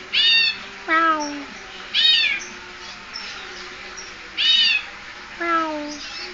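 A bird mimics a cat's meows, giving several drawn-out, falling meow-like calls in separate bursts, fairly close and loud against a quiet background, with no talking.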